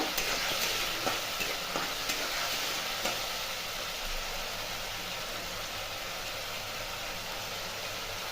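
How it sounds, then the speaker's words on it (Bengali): Masala with a little sugar sautéing in oil for a vegetarian cauliflower and potato curry, a steady hiss of frying with a few soft stirring scrapes early on, close and moderately loud, no talking. "এবার ভালো করে একটু কষে নেব।"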